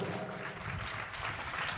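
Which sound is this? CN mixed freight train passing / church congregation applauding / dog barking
church congregation applauding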